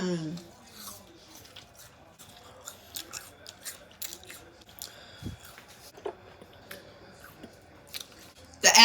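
Someone bites and chews a crisp caramel-coated apple, giving sharp crunches followed by quieter chewing and smacking sounds spread across the quiet stretch, ending in a louder burst.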